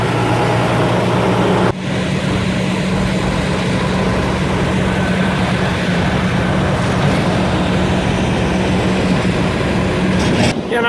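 A semi truck's big engine idles loudly nearby, a steady, dense rumbling drone that runs unbroken apart from a brief dip early on.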